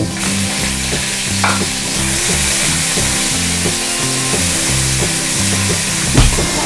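Chili, garlic and pork stir-fry loudly in a hot pan for a bitter gourd and shiitake dish, with a steady close sizzle and repeated clanking, scraping strokes of the spatula against the metal, no voices.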